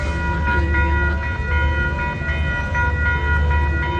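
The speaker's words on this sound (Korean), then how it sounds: "여기가 기차 정류장이에요." A train at a railway station gives off a loud, steady rumble with sustained tonal, horn-like notes running through it. The sound is close and continuous, and no one talks.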